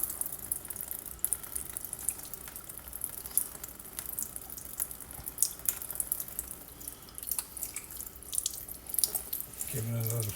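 A whole squid being scrubbed by hand under a steadily running kitchen tap, water splashing and hissing in the sink throughout at moderate level.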